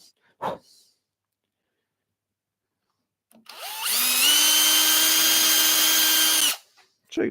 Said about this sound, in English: Cordless drill.